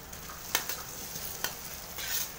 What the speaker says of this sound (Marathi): आता आपण बटाटे टाकून घेऊया